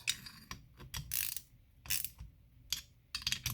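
A hand socket ratchet clicks in short back-and-forth bursts while tightening parts on a McCulloch SP81 chainsaw during a rebuild, close and fairly quiet with pauses between strokes.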